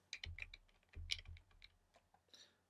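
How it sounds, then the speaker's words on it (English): Keys clacking on a computer keyboard while text is entered into a SwiftUI form preview, a quick uneven burst of close, crisp taps with short pauses between clusters. "as I keep on typing"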